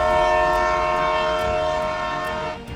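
A train passes with loud, steady rumbling and a sustained multi-tone horn sounding throughout, fading slightly at the end.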